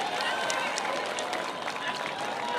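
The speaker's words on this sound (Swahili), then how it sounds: "Tumpigie makofi huyu Njoroge jameni." A crowd applauds Njoroge at a Kenyan gathering, a dense, continuous patter of clapping that holds steady for a few seconds with faint voices mixed in.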